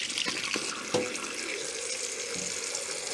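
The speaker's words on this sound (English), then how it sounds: "Turn the water on nice and hot" Hot water runs steadily from a tap into a sink to soak a makeup sponge, a continuous close splashing hiss with a brief knock near the start.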